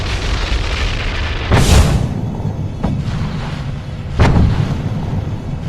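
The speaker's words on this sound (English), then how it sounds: "the gases suddenly expand and the volcano violently erupts" A volcano erupts violently at Soufriere Hills, giving a loud continuous roar with deep rumbling and two or three heavier booming surges.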